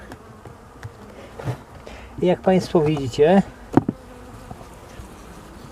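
Honeybees in a hive during a winter bee count make a buzzing drone under someone speaking Polish, with his voice dominating the middle of the clip and quieter bee hum in the background.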